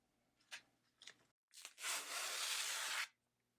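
Masking tape being pulled and torn, then laid down and rubbed onto an acrylic sheet before laser cutting: a few short scratchy tears followed by a long, close, steady rasping rub that stops abruptly.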